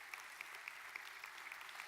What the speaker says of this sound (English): that is a very polite applause